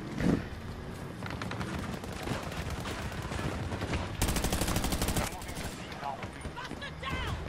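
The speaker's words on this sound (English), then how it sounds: "Just kept shooting." Rapid video-game gunfire rattles in dense bursts across the whole stretch, loud and continuous, with a heavier volley near the middle, mixed with game music and effects and a voice talking over it.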